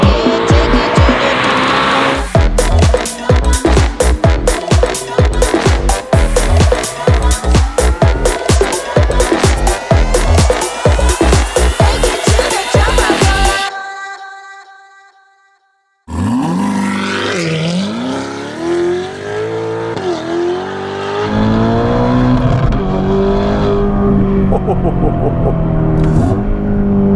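A Novitec-tuned Ferrari Roma with a 3.9 litre V8 and a loud aftermarket exhaust: hard rev-driven bursts and crackles under music, a brief silent gap, then the engine returns with rising and falling revs and a tire squeal.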